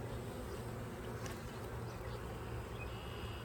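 Honeybees buzzing right at the microphone near blossoming fruit trees, a close, continuous droning hum with a couple of faint knocks as they bump into it.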